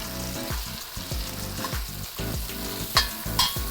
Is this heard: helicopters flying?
no